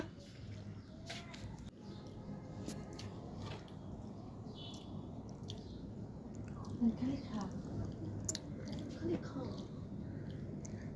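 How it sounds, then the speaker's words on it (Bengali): Someone eats khichuri with egg do-piyaza, with soft close chewing and occasional bites under faint background noise and quiet speech. "তো দেখুন এবার আমি খাবো"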